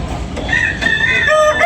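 A rooster crows in Tabunok, Talisay, Cebu, one full, loud cock-a-doodle-doo close by, with a low rumble of background noise underneath.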